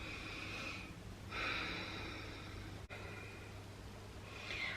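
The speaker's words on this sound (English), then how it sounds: "just take a breath or two here" Deep, slow breaths held in a yoga squat pose, two soft airy exhales and inhales close to the microphone over a low steady hum.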